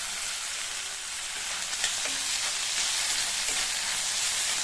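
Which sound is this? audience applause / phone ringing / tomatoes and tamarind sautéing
tomatoes and tamarind sautéing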